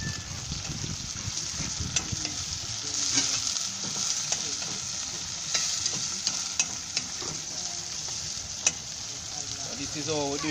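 Saltfish frying in a pot with cucumber, tomato and okra: a continuous moderate sizzle with stirring scrapes and occasional sharp utensil clicks against the pot, no voices.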